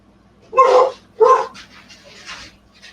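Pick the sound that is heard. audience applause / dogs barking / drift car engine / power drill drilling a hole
dogs barking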